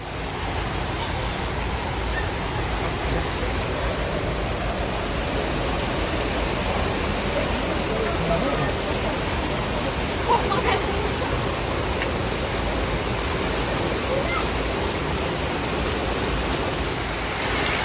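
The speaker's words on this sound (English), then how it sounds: "downpouring rain, like so hard" Heavy downpour of rain pounds steadily on surfaces outside a storefront, a dense, unbroken hiss that stays loud and even throughout, with a few faint knocks beneath it.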